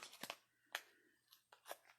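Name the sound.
scissors cutting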